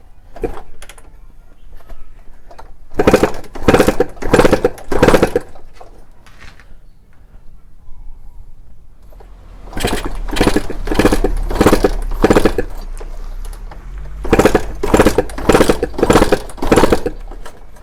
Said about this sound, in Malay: kita kena start motor ni